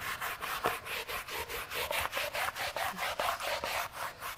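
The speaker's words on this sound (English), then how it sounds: "take your brush and give it a good hard brush" A stiff brush scrubs hard back and forth across a car floor mat in quick, even rhythmic strokes, close and moderately loud, with no talk.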